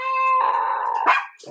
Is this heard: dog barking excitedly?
yes